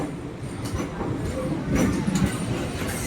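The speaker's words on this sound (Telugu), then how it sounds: "మన ట్రైన్ అయితే 8:27కి అయితే డిపార్ట్ అయిందండి" A Narasapur–Rajahmundry MEMU train pulls out of Palakollu railway station, a steady rumble of wheels and carriages with faint clacks, close and continuous with no talk.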